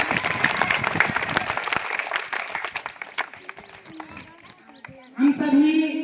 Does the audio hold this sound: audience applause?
yes